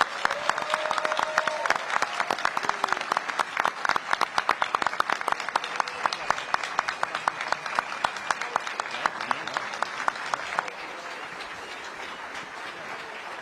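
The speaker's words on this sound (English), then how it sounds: "let's give a hearty round of applause for both candidates" An audience at a mayoral debate in Cincinnati gives a sustained round of applause for both candidates, dense rapid clapping that swells and then thins to a softer patter near the end.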